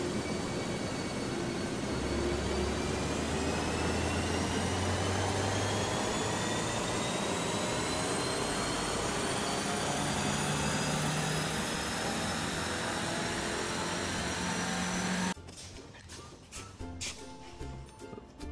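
A Suzuki Swift Sport with a manual gearbox revs hard on a dyno, a loud, sustained engine roar climbing steadily in pitch for about fifteen seconds before cutting off abruptly into quieter rattles.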